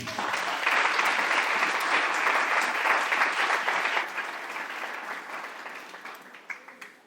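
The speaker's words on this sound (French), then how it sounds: "Acclame le Seigneur Jésus" Sustained applause from a Pentecostal church congregation at Bethel, dense clapping holding steady for several seconds before gradually thinning out near the end.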